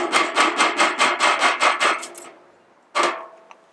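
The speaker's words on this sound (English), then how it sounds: "So there are two pins I'm going to drive out." Pins being driven out of a TUBBGUN rifle, a steady series of about ten sharp, evenly spaced metallic taps close by, a brief pause, then one more strike.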